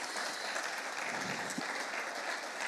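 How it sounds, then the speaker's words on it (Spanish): A steady round of applause from a forum audience for the panelists, continuous clapping filling the space for a few seconds. "Un aplauso entonces para nuestros panelistas"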